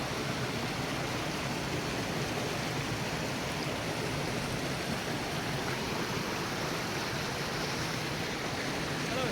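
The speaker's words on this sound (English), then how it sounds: "now I'm at the Waterfalls." A steady, dense roar of falling water fills the scene, broadband and constant without pause, from a waterfall in the Bulgarian mountains heard up close.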